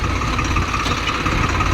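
A tractor engine pulling in low gear: a steady, close, continuous diesel rumble with no pauses or talk across the short stretch.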